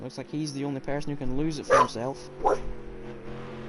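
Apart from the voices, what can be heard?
dog barking in the background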